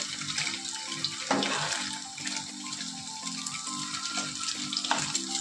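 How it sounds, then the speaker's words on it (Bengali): Paneer frying lightly in a pan with a soft, steady sizzle and a few spatula clinks, over a droning background hum that rises and falls in short repeating bursts. "পনির বেশি ভাজবো না হালকা করে ভাজবো"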